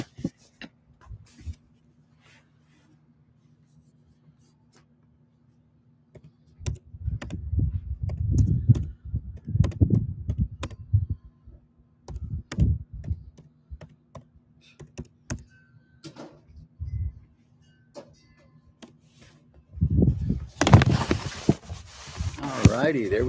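A computer keyboard is typed on in scattered clicking bursts while a person talks over it, with a louder rustle near the end.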